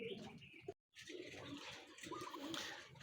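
Racing pigeons coo softly and continuously at close range, low murmuring calls with a brief gap partway through, during feeding with a honey mixture at a loft in Sto. Tomas, La Union.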